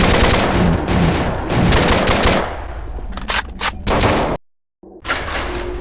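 Sustained automatic gunfire from the shooter Paranoia 2: Savior rattles loudly for several seconds, then breaks into short choppy bursts, a brief dead silence, and resumes.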